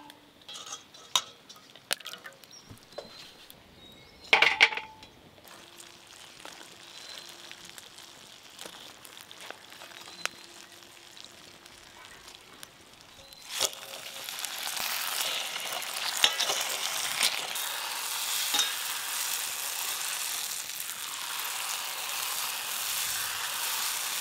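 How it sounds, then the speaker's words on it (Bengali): Jalebi frying in oil in a home kitchen: scattered clinks of a utensil against the pan, then a louder, steady bubbling sizzle swells up and continues to the end. "জিলিপি দু পিঠ ভাজা হয়ে গেলে যেগুলো জুড়ে জুড়ে আছে এগুলো ছেড়ে যাবে"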